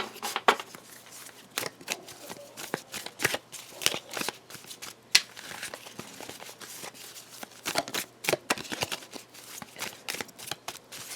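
Tarot cards being shuffled by hand, a steady run of crisp riffling and flicking bursts over about eleven seconds, close and fairly quiet with no talking.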